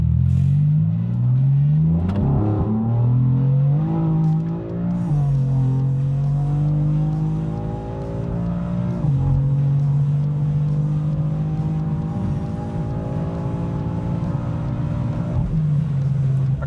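A car accelerates hard from 100 to 200 km/h, its engine loud and close, with the pitch climbing steadily through several gear changes over about sixteen seconds of continuous roar.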